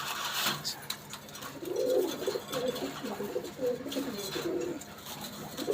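Imported Pakistani Tedy pigeons coo in a home loft, soft repeated rolling calls from a few birds close by, with faint rustling and clicks in the background.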